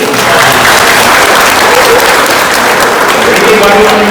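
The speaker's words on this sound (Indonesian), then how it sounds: "tepuk tangan dulu" Students in a vocational high school hall during a police school visit give a loud, dense round of applause that holds steady from start to finish.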